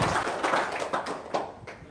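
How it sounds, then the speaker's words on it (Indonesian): Audience applause at a religious talk in Indonesia: a steady crowd patter of many hands clapping for about two seconds, fairly loud and even, with a faint murmur of voices underneath. "Tepuk tangan dulu dong"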